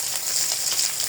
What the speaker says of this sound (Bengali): আমার মাছ ভাজাগুলো হয়ে আসছে